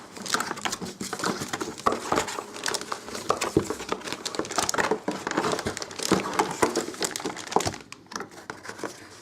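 Dense crinkling and rustling of plastic and cardboard packaging as a Cooler Master Storm Devastator keyboard is pulled from its box, close and irregular with sharp crackly bursts, a brief lull near the end.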